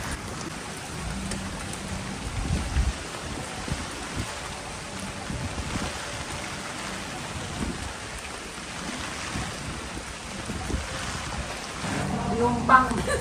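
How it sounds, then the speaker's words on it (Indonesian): Rain falls steadily on the way to a fish market in Indonesia, a continuous soft patter on umbrellas and pavement with scattered footsteps and small bumps, and people talk quietly in the background. "Mari kita hujan-hujanan, enjoy."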